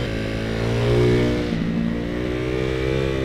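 A Ducati Hypermotard 698 Mono single-cylinder with a race-setup Termignoni exhaust revs loudly, the engine note swelling to a peak and dropping back, then holding at a steady idle-like growl.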